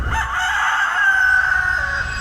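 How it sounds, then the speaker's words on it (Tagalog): A rooster gives one long, loud crow from close by, rising and drawn out over about two seconds, with low farmyard background noise and no voices. "Bakit nga ba tumitilaok ang manok?"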